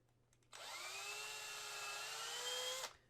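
A small power drill whines steadily for about two seconds while pinning a resin model kit, a single high, even buzzing burst that starts and stops abruptly in a quiet room.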